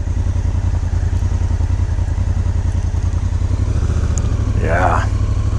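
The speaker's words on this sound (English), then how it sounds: "And I get to ride on gravel." A motorcycle rolls over gravel with a loud steady engine rumble and a continuous crunch and clatter beneath it, and a brief voice sounds near the end.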